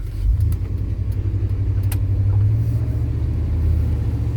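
A 1993 Chevrolet K1500 WT pickup truck drives along a road, its engine giving a steady low rumble with a slight rise as it gathers speed, heard from inside the cab.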